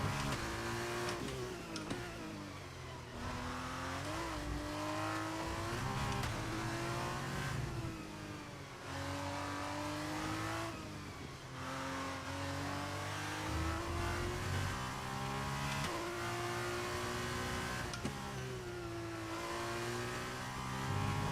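Formula One race car engines in the video game F1 23 scream continuously, with repeated gear shifts and rising and falling revs through corners, loud and close.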